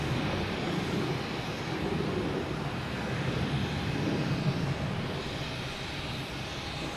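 American Airlines airliner arriving from Miami at Boston Logan Airport, a continuous engine roar with gentle swells, moderately loud and close, with no talk over it.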